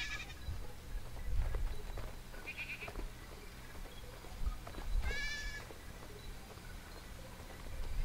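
A sheep in a sword-and-sorcery video game gives a couple of short, wavering bleats over a low, steady background ambience, with no talk.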